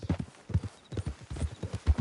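Horse hooves clip-clop at an even trotting rhythm in the Red Dead Redemption 2 video game, close and fairly loud, with about four groups of footfalls over a couple of seconds.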